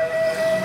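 A Hino truck horn blares one steady, sustained tonal blast, loud and close, with no voices over it.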